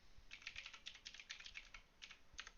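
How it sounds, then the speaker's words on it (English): Login details typed on a computer keyboard, a quick run of soft, close key clicks with brief pauses, fairly quiet and without any talking. "I'll type that in here."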